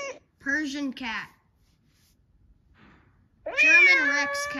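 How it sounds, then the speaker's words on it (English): A Persian cat meows up close, first two short, plaintive mews, then after a quiet pause a longer, louder drawn-out meow with a wavering pitch. "Persian cat."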